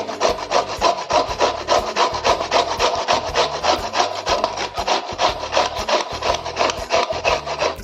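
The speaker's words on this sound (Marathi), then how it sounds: "या प्रकारे आपण मुळा किसून घेऊया" Radish being grated by hand on a grater, steady rhythmic rasping strokes, loud and close, repeating back and forth with no talking.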